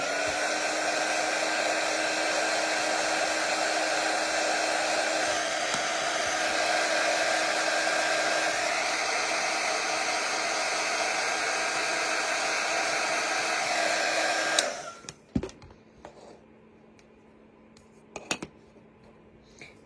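A hair dryer blows steadily and loudly on a chalk craft letter board project, a constant whirring roar that cuts off abruptly, followed by a few faint clicks and handling sounds in near silence.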